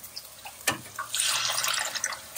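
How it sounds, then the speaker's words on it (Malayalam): Water poured from a kettle into a burnt pan in a home kitchen lands with a soft knock, then a faint hissing splash that runs on for over a second. "കെറ്റിലെ വെള്ളം ഇത്തിരി ഒഴിച്ചിട്ട് എന്തായാലും വെള്ളം വേണം"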